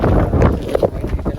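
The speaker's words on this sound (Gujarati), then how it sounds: "તો બસ અહીંયા એકદમ જોરદાર પવન આવે છે।" Strong wind blowing on Pavagadh hill, buffeting the microphone in loud gusty rumbles with a few brief knocks mixed in, no talking.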